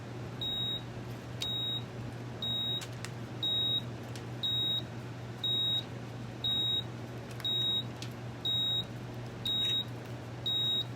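A heat press used for heat transfer vinyl beeps about ten times in an even, steady rhythm, each short tone clear and close over a low constant hum, with no speech.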